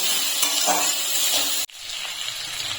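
Amla (Indian gooseberries) frying with panch phoron in a pan, a bright continuous sizzle with stirring scrapes, dropping suddenly quieter partway through before the softer crackle resumes.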